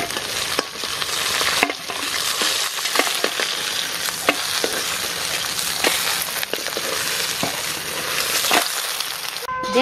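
Pangas fish frying in plenty of hot oil: continuous close crackling sizzle with scattered pops and occasional stirring taps, steady throughout with no talk.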